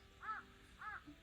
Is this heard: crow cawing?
yes